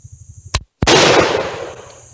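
A French MAS 49-56 rifle with a replaced firing pin double-fires at an outdoor range: two sharp, loud shots in rapid succession, the second followed by a long, rumbling echo.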